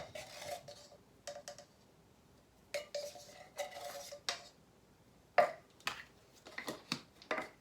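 A measuring spoon scoops baking powder and clinks against a bowl, a handful of faint, light metallic taps and scrapes spaced irregularly in a quiet kitchen.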